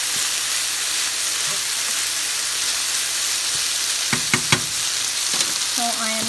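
Chicken fajitas sizzle loudly and continuously in a hot skillet, a dense crackling hiss with a few sharp clinks of utensils near the end.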